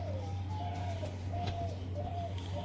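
Desi high-flyer pigeons coo softly at a loft sale, a few low, drawn-out calls repeating over a steady background hum.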